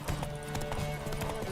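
Horse hooves clip-clopping at a quick pace in The Witcher video game, with a steady rhythm of hoof strikes over a dense game soundscape and a faint low tonal hum underneath.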